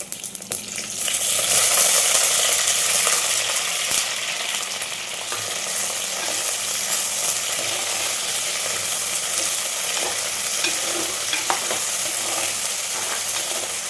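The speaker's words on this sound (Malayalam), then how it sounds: "വെണ്ടയ്ക്ക അതിനകത്ത് ഈ എണ്ണയിൽ കിടന്നൊന്ന് വറുത്തെടുക്കണം, കിടന്ന് മൂപ്പിച്ചെടുക്കണം, നല്ലതുപോലെ വറുത്തെടുക്കണം." Okra fries in hot oil with a loud, continuous sizzle and crackle, occasional scrapes of stirring heard close up.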